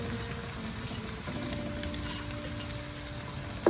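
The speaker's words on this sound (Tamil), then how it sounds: "வெங்காயம் வெந்துக்கிட்டு வருது." Onions frying in oil in a pot while cooking mutton kheema biryani, with a steady low sizzle and crackle throughout, a faint tonal hum in the background and a small clatter at the very end.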